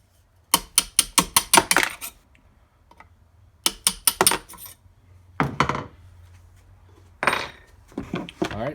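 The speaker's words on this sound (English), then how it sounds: "So you'll want to take your 1/8 inch punch and punch these out." Punch driven against the trigger plate pins of a Remington 760 Gamemaster rifle with a 1/8 inch punch: sharp metallic taps in quick bursts of five or six, with pauses and scattered clinks, close and alone.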